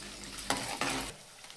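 Dried red chillies and garlic frying in a pan for a tomato pickle give a loud sizzle that swells in two short bursts as they are stirred, then quickly fades.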